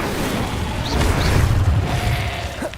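An Incendio fire spell cast during Hogwarts Legacy combat, a loud rumbling boom and fiery whoosh swelling in the middle, layered over continuous game action sounds and small magical chimes.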